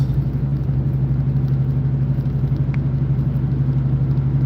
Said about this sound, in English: Tow truck.